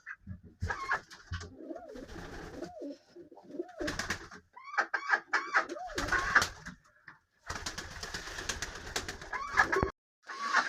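Pigeons coo repeatedly at close range, soft rolling calls rising and falling, with bursts of wing flutter and rustling between the calls.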